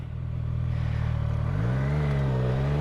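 A CFMOTO 675SS motorcycle pulls away hard in first gear with traction control set to level 1, its engine a loud, steady close-up drone that climbs sharply in pitch halfway through as the revs build.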